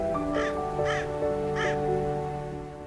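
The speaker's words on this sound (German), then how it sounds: "Außer der Stimme des Windes und den Rufen von ein paar Krähen ist nichts zu hören." Several crows caw in a winter forest, three distinct calls spaced about half a second apart over a steady background hum of wind, moderately near and clear.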